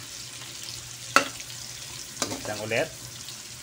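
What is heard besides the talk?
sautéing pork, garlic and tomato in a pan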